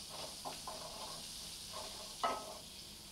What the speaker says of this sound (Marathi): थोडा वेळ कांदा लसूण आणि अद्रकाला तेलामध्ये फिरवून घेतलं